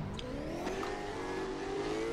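A rowdy Mustang's engine revs hard in a racing video game, a steady rising drone with sustained mid-range roar held throughout, loud and close.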